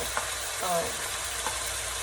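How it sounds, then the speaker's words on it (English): A constant hissing sizzle of fried rice frying in a pan, with a few faint clinks of a utensil stirring. "I wanted to make sure that it's frying still"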